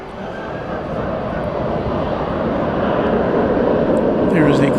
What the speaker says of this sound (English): there is the Qantas A380 now on the move, most likely being towed to its position at Terminal D